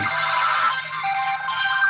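A mobile phone rings with a steady electronic ringtone, close and clear, playing continuously without any talk over it.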